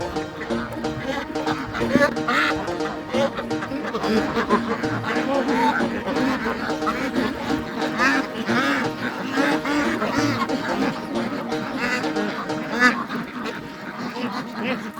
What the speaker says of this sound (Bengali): এখানে প্রায় বাইশশোর মতো হাঁস আছে মানে এক কথায় অসাধারণ একদম এই জাতটির নাম হচ্ছে চায়না একটি জাত হাঁসের